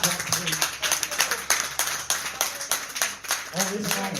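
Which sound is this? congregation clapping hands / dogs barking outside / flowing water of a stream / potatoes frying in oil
congregation clapping hands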